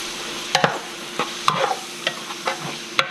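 Spoon stirring chopped onion into ground beef frying in a pot for taco soup, a series of distinct scraping strokes roughly every half second over a soft steady sizzle.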